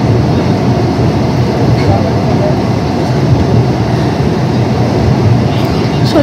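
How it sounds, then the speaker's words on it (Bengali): An underwater metro train runs about 30 metres beneath the Ganges in India's first underwater metro tunnel, giving a steady, loud, broadband rumble and roar that continues unbroken throughout, heard from inside the carriage. "পুরোটাই গঙ্গার নিচে দিয়ে 30 মিটার নিচে দিয়ে যাচ্ছে মেট্রোটা"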